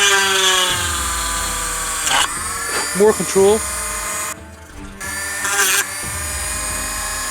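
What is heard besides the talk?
Dremel rotary tool drilling resin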